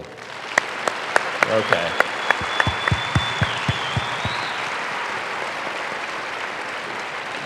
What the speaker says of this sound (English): would you please clap loudly?